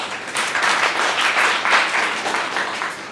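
Students in a university classroom break into a burst of applause, a dense, even clapping that holds steady for a few seconds, close and fairly loud with no voices over it.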